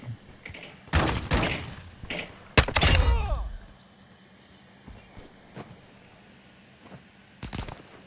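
Gunfire in Call of Duty DMZ: several sharp shots in bursts with one heavy blast near the middle that rings out, then scattered fainter distant pops over quiet background.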